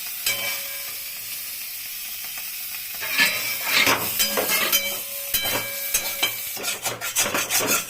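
Prawns and cauliflower fry in a wok, a soft sizzle broken by scraping and stirring strokes that grow busier and louder toward the end, with no talking.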